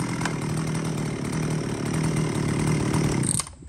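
A used Japanese chainsaw, from a lot including Echo, Makita and Shindaiwa saws, runs steadily at close range with a loud, buzzing two-stroke drone, then cuts off abruptly near the end.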